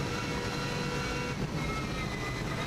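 A Subaru Impreza rally car screams flat out at close range on a record-breaking TT lap through village streets, its engine a dense, continuous roar with a gear change near the middle and no voices.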